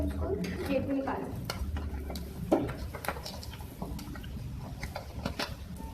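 An egg fries in a pan while a spatula stirs and scrapes against it, making close sizzling mixed with clattering utensil knocks, and faint talk now and then.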